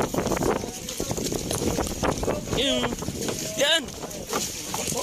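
Small outrigger boat ride among the Hundred Islands at Alaminos, Pangasinan, with steady engine and water rumble under loud wind buffeting, while people talk and call out over it throughout.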